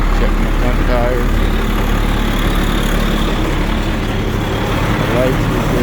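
A DT360 diesel truck engine idles on a cold morning while warming up, a steady low rumble throughout with faint background sounds.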